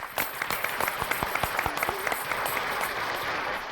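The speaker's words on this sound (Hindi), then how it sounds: "तालियां।" Audience applause on the set of the Hindi TV comedy Taarak Mehta Ka Ooltah Chashmah, a dense burst of clapping with sharp individual claps that keeps going steadily for several seconds, fairly loud and close.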